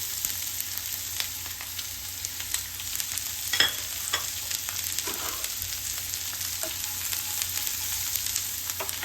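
Two chopped onions frying in hot oil with curry leaves for tomato chutney, a steady close sizzle with intermittent spatula scrapes and a louder stir clatter partway through, no voices.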